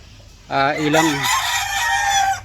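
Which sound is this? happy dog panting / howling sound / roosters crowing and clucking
roosters crowing and clucking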